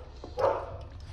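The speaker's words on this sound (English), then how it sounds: "That's my American band dog right there, 14 months." A dog gives a single short, fairly close bark or yelp at meal time during work on food aggression, standing alone over low background noise.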